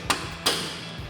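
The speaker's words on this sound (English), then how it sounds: "you may need to use a soft hammer just to tap this in place" Two sharp taps of a soft hammer on a bolt in a metal suspension bracket of a Jeep Wrangler TJ, a few tenths of a second apart, close by, followed by a faint third knock.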